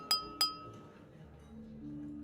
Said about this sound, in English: the crisp sound of the clinking glass captures everyone's attention